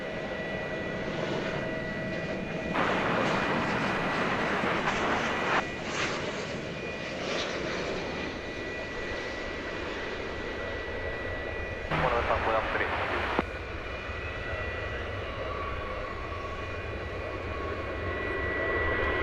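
A Boeing 737-800 jet at DFW Airport rumbles with a sustained engine roar that swells and eases over time, heard from a spotting position with some radio-like chatter and a voice mixed in.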